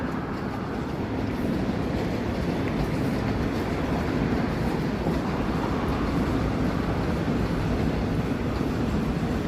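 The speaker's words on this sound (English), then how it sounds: "Just the subway trains passing over here is the only thing that provides a little bit of entertainment." Toronto subway trains pass by as a continuous low rumble with faint rhythmic rail clatter, steady and moderately distant, with no voices.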